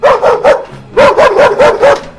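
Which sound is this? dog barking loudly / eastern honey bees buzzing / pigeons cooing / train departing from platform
dog barking loudly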